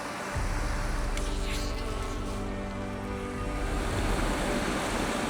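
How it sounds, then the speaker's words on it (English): A mountain stream in Scotland cascading over rocks gives a loud, continuous hiss and roar close by, with a faint low steady hum running underneath and no talking. "So excuse the noise of the water,"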